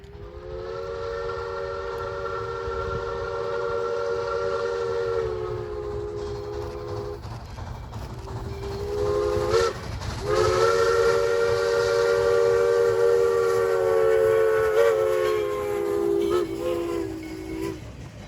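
USSC steam engine 148 passes a US 98 grade crossing with the throttle wide open, sounding its steam whistle in two long, loud blasts over the steady rumble and clatter of the train.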